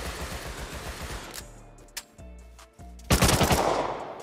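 Gunfire during a raid in the video game Rust Console, with rapid bursts of shots at the start, a few isolated cracks mid-way, and a louder close burst near the end.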